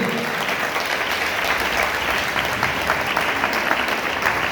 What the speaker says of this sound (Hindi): जोरदार तालियां मिलिए